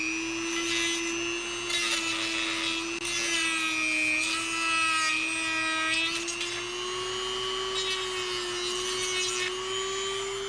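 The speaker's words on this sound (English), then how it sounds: "So a little Dremel after we plug it in" A Dremel with a small sanding wheel grinding the corners of a lens bezel, a high steady motor whine with scratchy, uneven rasping as the wheel bites, close and continuous without talk.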